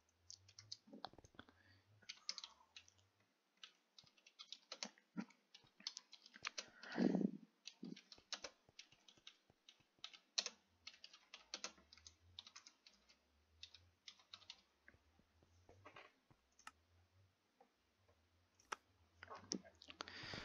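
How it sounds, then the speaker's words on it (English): Rapid clicks from a computer keyboard while a message is typed during a Minecraft session on PC, coming in quick irregular bursts with brief pauses, close and fairly quiet, under a low hum and occasional background game noise. "I'm going to go and just type a message to someone."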